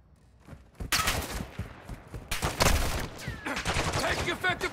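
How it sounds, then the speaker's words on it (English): Video-game gunfire from Call of Duty: Modern Warfare II: after a quiet opening, loud bursts of automatic fire and rapid volleys erupt and continue in dense clusters, with a voice briefly heard among the shots. "Taking effective fire!"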